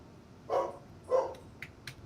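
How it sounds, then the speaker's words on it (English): A pet dog barks twice indoors, moderately loud and a little distant, followed by a couple of fainter short sounds, with no talking. "Please ignore my dog if you hear him."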